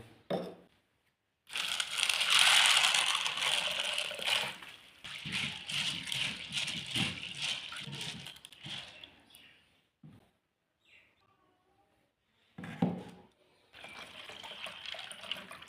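Hard dry white chickpeas rattle and swish in water as they are washed, with splashing and scooping sounds in bursts, then a quiet pause before more sloshing.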